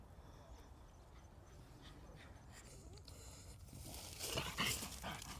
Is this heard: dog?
yes